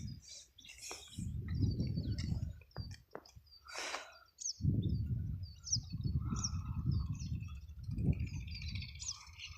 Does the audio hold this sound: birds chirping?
yes